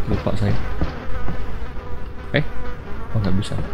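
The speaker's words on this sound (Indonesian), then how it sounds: "Ini gila, ini suara lalat ya." Flies keep buzzing in a steady, wavering drone in the PS2 game Resident Evil 4, with a few thuds and clicks over it and someone speaking briefly above the insect noise.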